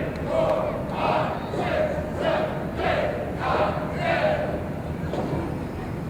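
A wrestling crowd at an NWA heavyweight title match chants and cheers in loud rhythmic surges about every second, under a commentator's voice.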